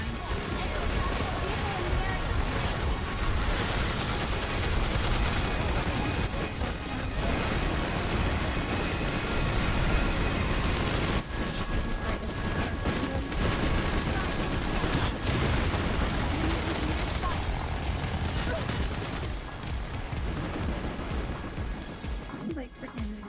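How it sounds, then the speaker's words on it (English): Spitfire turrets firing in a video game set off rapid, sustained bursts of automatic gunfire that run almost without pause, loud and close, while a person talks over the shooting. "Spitfire turrets, like just set up over here to shoot these."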